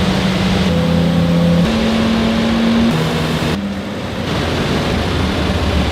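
A car engine of about 400 horsepower starts and idles with shifting revs, its steady low hum stepping up and down in pitch, fairly loud and close, with no talking over it.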